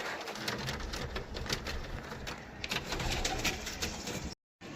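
Female Dobaj pigeons coo softly in their enclosure, low burbling calls repeating faintly amid light shuffling and scratching.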